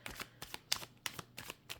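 Tarot cards are shuffled by hand in quick riffling bursts, about eight crisp flutters in a steady rhythm, close and clear with no talk.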